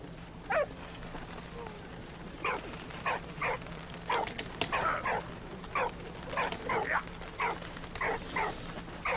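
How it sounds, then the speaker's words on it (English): A dog in the World War I game Valiant Hearts barks repeatedly at a bird, with short yips and barks in irregular bursts at moderate volume and quiet gaps between them. "Dog, quit barking at the bird."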